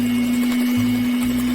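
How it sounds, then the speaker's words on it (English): An electric mixer beats half a cup of vegetable oil with a cup of powdered sugar at high speed, a steady whirring hum running continuously and cutting off abruptly at the end. "And beat at high speed for 1 to 2 minutes."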